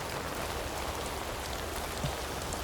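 Heavy rain pours steadily and loudly throughout, a dense unbroken hiss of drops striking surfaces with no speech.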